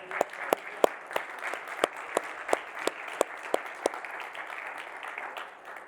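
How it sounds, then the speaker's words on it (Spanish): A church congregation applauding, dense clapping with a few sharp, regularly spaced claps standing out, steady and moderately loud before tapering off. "Un aplauso a nuestro Dios."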